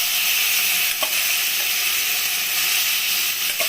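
Prawns frying in a little hot oil over low gas, a steady loud sizzle and hiss throughout with a couple of faint clicks of utensils, no talking.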